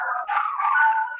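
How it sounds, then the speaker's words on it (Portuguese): Dogs howl and bark in the background, a blurred, continuous cluster of overlapping canine cries heard at moderate distance throughout. "Desculpa pelo barulho dos cachorros."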